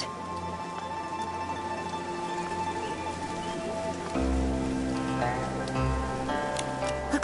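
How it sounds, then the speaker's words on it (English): Steady rain falls in the Infinity Nikki video game, a continuous soft patter on surfaces with faint ticking drops, growing slightly heavier and fuller partway through, with light game ambience underneath. "it rained"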